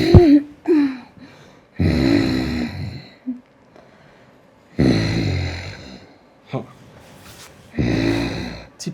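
A woman snoring while asleep, deep rasping rumbles on each inhale, three long snores spaced by quiet pauses, close to the recorder, with brief snorts and breaths between.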